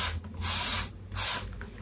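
A handheld water spray bottle gives two quick close hissing bursts, each a short sharp spritz with a brief pause between them.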